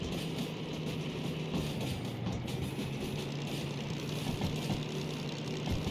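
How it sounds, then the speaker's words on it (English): DM3 locomotive running in the train game Derail Valley: a steady, dense engine drone with a low throb and rumbling wagon noise, constant and close throughout, no talk. "this is one of my favorite locomotives to drive"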